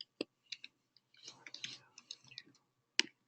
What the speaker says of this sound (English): And then we will type in our property address.